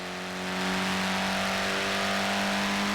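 A Mini Cooper S engine in Forza Horizon 4 holds a steady, slightly rising drone with a clear tonal hum, close and continuous, no voices.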